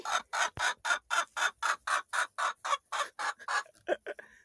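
Hens in a backyard coop cluck in a steady run of about fifteen short, evenly spaced calls, close and fairly loud, ending in a few quicker, choppier clucks.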